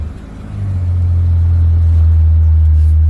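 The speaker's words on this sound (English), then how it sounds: "I'm going to quickly start the car up and see if anything changed" A Ford Falcon engine turns over and settles into a loud, steady low rumble that builds within the first half second and holds close by.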